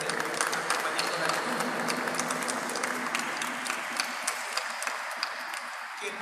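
Applause from a church congregation at a Mass in the Basilica of Itatí, a dense, steady patter of many hands clapping throughout, moderately distant with faint voices underneath.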